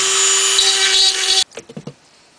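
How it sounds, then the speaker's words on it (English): A Dremel rotary tool drills into firebrick for an ant formicarium, a loud, steady high whine for about a second and a half that cuts off abruptly, followed by a few short scraping knocks. "If you have the right size bit, you can probably use that, or just the Dremel."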